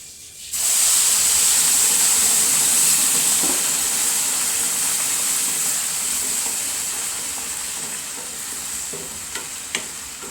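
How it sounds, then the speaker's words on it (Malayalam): Boiling water is poured onto roasted semolina in a hot pan for upma, bursting into a loud hissing sizzle that slowly fades into a steady simmering hiss with a couple of small clinks. "റവ നന്നായിട്ട് മൂത്തിട്ടുണ്ട് കേട്ടോ അപ്പോൾ നമുക്കിനി തിളച്ച വെള്ളം തിളച്ചിട്ടുണ്ട് ആ വെള്ളം കുറേശ്ശെ കുറച്ച് വെച്ച് കൊടുക്കാം"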